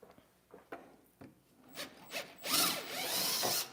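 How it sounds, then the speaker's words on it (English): A drill bores out holes for blind nuts, starting with a few separate scrapes and ticks, then building into a louder rasping, grinding burst near the end, close and without speech. "So what I'm doing here is I'm drilling out the holes because the position of the blind nuts that are in there, they're off a little bit."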